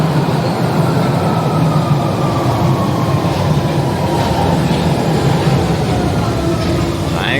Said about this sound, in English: We just got down here and missed the train, and here's the next one.